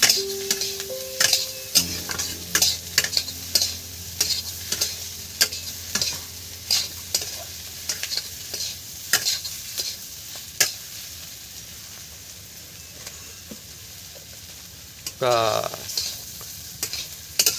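Potatoes sizzle in a pan for a sandwich filling while a spatula scrapes and taps in repeated stirring strokes, and one short spoken word comes near the end.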